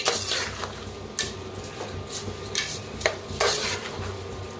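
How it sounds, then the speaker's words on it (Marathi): Rice grains and salt are stirred and roasted in oil in a pan, with repeated scraping strokes and clinks of a spoon against metal over a soft sizzle, close and fairly loud, with no voices. "जरा आता भाजून घेऊया मिठाला, मग मिक्स करूया सगळं."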